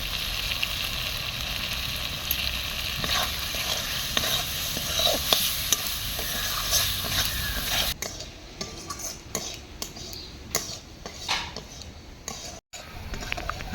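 Mutton fat sizzles in spiced oil for ghugni while a spoon stirs and scrapes the pan, a steady close frying hiss with repeated metallic clinks, the sizzle thinning and becoming patchier toward the end.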